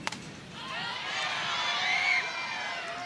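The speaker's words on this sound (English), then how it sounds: "We have such a good crowd today, too." Crowd cheering and whooping at a softball game on a hot, windy evening, a swelling wash of distant shouts that rises then holds steady.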